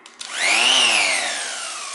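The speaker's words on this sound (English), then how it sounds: "here is my sanding machine" A Mirka electric sanding machine, used for repairing a damaged car front bumper, spins up with a rising whine that peaks and then holds as a steady, slowly easing motor hum, close and loud, with no talking.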